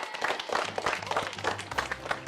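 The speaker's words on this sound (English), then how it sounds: "Give yourself a round of applause, ladies and gentlemen." Fifth-grade students at an elementary school applaud together, a steady patter of many hands clapping with crowd noise, moderately loud and continuous throughout.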